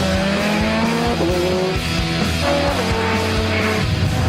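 A Ferrari F430 Scuderia driven at speed: a loud, close, continuous engine howl with shifting pitch and rhythmic pulsing, steady and unbroken throughout.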